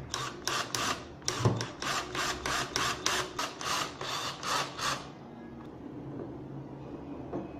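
Screws being driven into wood pieces to build a DIY incubator egg turner, heard as a quick run of about a dozen rhythmic, even bursts from a cordless driver, close and fairly loud, stopping at about five seconds and leaving quiet room noise.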